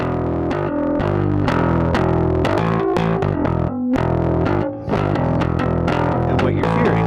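A full music track passes through a compressor with exaggerated input gain, giving a dense, loud, evenly squashed mix of distorted guitar-like tones and percussion that stays at near-constant level throughout.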